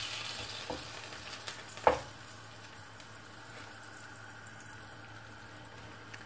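Tomato pulp poured into a pan for stuffed courgettes and stirred, a soft splat and a clink early on, then a faint, steady low sizzle with no voices.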